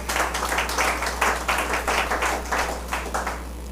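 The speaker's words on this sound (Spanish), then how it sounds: "Denle un aplauso al Señor." A church congregation claps in a fast, steady rhythm, many hands together, with a low hum underneath and no voices.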